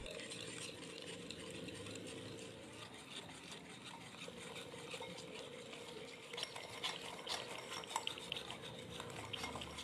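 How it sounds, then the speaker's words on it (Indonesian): A utensil stirs cornstarch into a sugar batter for choux craquelin pastry, making quiet, continuous scraping and clinking against the bowl. A faint kitchen clatter sits underneath. "Masukkan maizena, aduk kembali."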